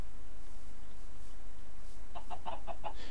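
Chickens in a Minecraft world cluck in a short burst of several quick, fairly close calls near the end, over a steady low ambient hum with no talking.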